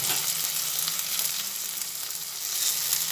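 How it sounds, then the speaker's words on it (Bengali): Onion and tomato fry with turmeric in a pan, giving a steady, moderately loud sizzle with faint stirring scrapes running throughout, and no voices. "হলুদ দেওয়ার পরে আবার ভালোভাবে হলুদটা মিশিয়ে নিচ্ছি আবার কিছুটা ভেজে নিচ্ছি"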